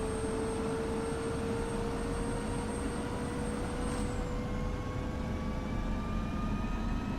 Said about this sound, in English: Throttle's coming forward. We're watching RPM increase.